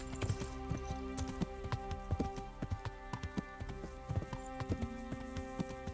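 Horse hooves cantering in Kingdom Come: Deliverance, a steady rhythmic clip-clop of repeated hoof impacts close by, carrying on through the whole stretch over a low game ambience with no voices.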